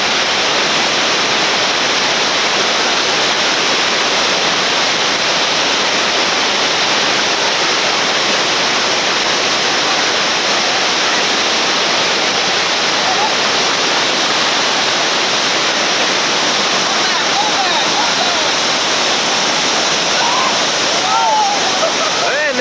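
Whitewater river rapids in West Virginia roar as a raft moves through them, a loud, continuous rushing of churning water, with a voice commentating over the torrent.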